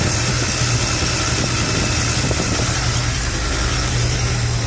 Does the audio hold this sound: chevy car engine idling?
yes